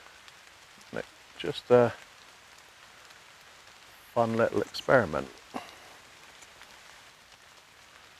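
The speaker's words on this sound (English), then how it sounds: "Enjoy the rain." Soft, steady rain falls outdoors in a constant faint hiss, heard under someone talking in short bursts and alone in the pauses between.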